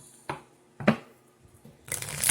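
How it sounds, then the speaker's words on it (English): A deck of tarot cards shuffled close by, two sharp riffling bursts followed by a longer rustling flurry of cards at the end. "I'm going to shuffle one more time"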